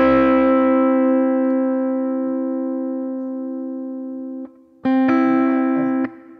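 Two sustained notes ring together as a harmonic interval, steady and clear, fading slowly before a short break and a brief restrike of the same pair near the end; no talking.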